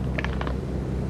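A truck's power window rolling up inside the cab in American Truck Simulator, a short mechanical whir with a couple of soft clicks over a steady low engine hum.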